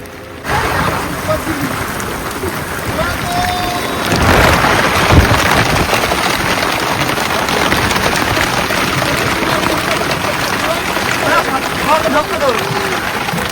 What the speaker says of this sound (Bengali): আর দেখি বৃষ্টি হচ্ছে প্রচুর